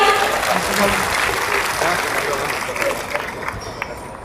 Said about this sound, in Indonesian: Kita berikan aplaus Bapak Ibu sekalian.